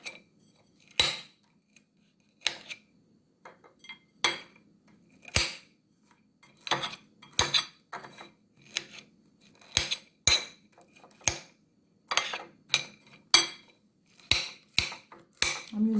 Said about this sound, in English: I'm just going to cut my pecan. I'm just going to cut it up into some small bits.